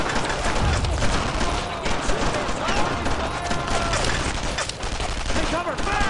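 Sustained gunfire in the World War II game Brothers in Arms, a dense, continuous rattle of rifle and machine-gun shots throughout, with soldiers' voices calling out under the shooting.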